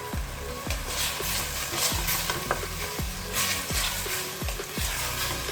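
Tomatoes braise and sizzle in a pot for butter chicken, a steady frying hiss with regular scraping stirs and faint clinks of the spoon, heard close without talk.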